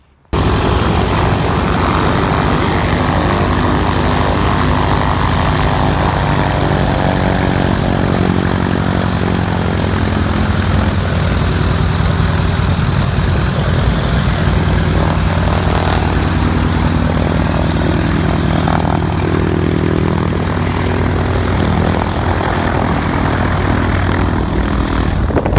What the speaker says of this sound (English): So this is the DC-3 Flagship Detroit plane in operations